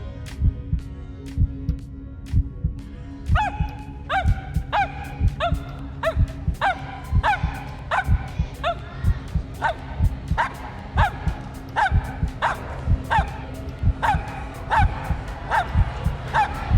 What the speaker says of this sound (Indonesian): Mia lagi-lagi berhasil menggonggong dalam jumlah yang sesuai dengan angka di kartu